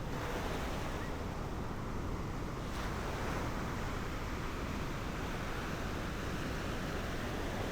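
High ocean waves at Nguyahan Beach in Yogyakarta, a continuous, dense roar of surf mixed with wind buffeting the microphone, steady and loud throughout without speech.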